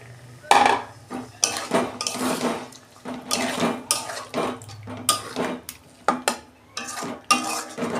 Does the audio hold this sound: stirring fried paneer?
yes